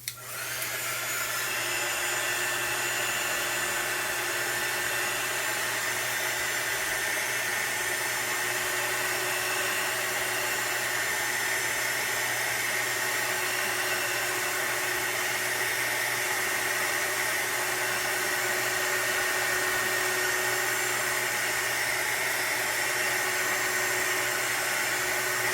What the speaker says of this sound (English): I am going to use the heat gun again